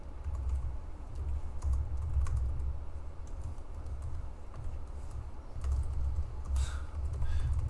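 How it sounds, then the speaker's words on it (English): Rapid one-handed typing on a computer keyboard kept close to the body, a dense fast clatter of keystrokes with brief pauses, close and clear, no talk. "I never had to explain how I type to someone before"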